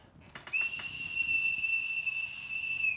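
A shrill, steady toy whistle blown in one long continuous tone after a few short taps, close and fairly loud, with a hissy breathy edge.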